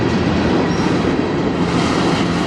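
A Canadian National manifest freight train led by locomotives CN 3091 and CN 3280 rolls past in Sarnia, Ontario, a loud, steady rumble of rail cars with continuous wheel noise and no voices.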